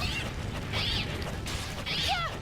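A cat meows twice in the video game Bloodstained: Ritual of the Night, short rising-falling cries over a steady, busy game soundtrack and ambience.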